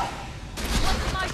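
SMG fire in the Tiny Tina's Assault on Dragon Keep video game, a sudden loud burst of rapid shots starting midway and continuing to the end, with speech-like sound mixed in.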